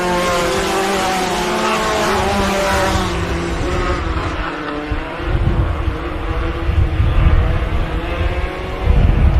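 Off-road race buggies, Limited Buggy and Limited 1600 classes, at a Great American Short Course round, roar loudly past on the short course track, with engine tones rising and falling as the pack sweeps by.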